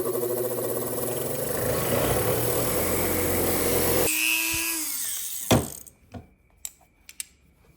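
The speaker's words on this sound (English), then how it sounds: "We're just going to give it a quick wire wheel, and then let's see how it turns out from there." A wire wheel grinds and scrubs rust off an old Vise Grip locking pliers with a loud, steady whirring rasp, then the motor cuts off and spins down, followed by a few sharp metallic clanks and taps.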